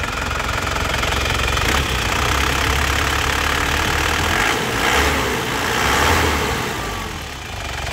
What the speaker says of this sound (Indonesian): Jadi suara khas mesin sehatnya Panther seperti ini lur.